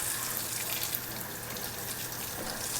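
Water pouring steadily into a cooking pot while making a cheese dip for nachos, a continuous close gushing stream like a running faucet, with no talk over it.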